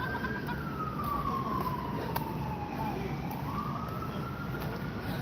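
Emergency vehicle siren wailing along a street, a single rising and falling tone held steadily through the whole stretch against constant traffic and outdoor background noise, moderately distant.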